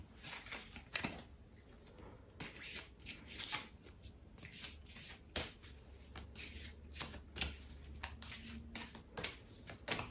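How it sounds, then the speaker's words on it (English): Tarot cards being shuffled by hand, a steady run of soft riffling bursts and card slaps repeating throughout, close and fairly quiet with no talk. "I'm just going to pull some cards for anything else that wants to creep in"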